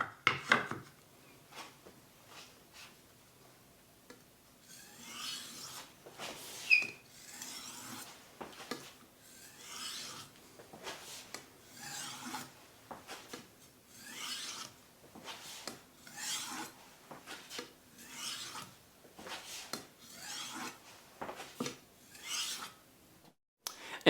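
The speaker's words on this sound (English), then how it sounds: "Let's finish by polishing it on the other side." A knife edge is polished on a sharpening stone, heard as a steady rhythm of close, rasping strokes, each a short gritty scrape repeated evenly with brief gaps.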